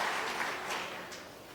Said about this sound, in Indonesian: tepuk tangan yang meriah buat Ibu Wakil Gubernur